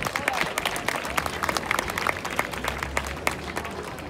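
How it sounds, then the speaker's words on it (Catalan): Crowd applause at the Barceloneta neighbourhood festival in Barcelona, outdoors, steady clapping from many people with sharper individual claps popping through and faint voices mixed in. "Fort aplaudiment per ells."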